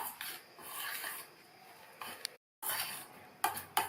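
Jaggery syrup being mixed into soaked powdered poha in a bowl for aval modagam, with scraping and rubbing strokes of a spoon against the bowl, a short silent break and a few sharper clinks near the end.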